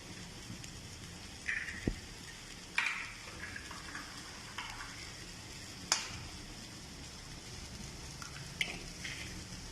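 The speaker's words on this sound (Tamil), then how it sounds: "இப்போ 1 by 1 முட்டையை உடைச்சு ஊற்றிக்கலாம்." Eggs are cracked one by one into a pan of frying masala for a drumstick flower egg stir-fry, giving a few sharp, isolated cracks and taps over a quiet, steady sizzle with no talking.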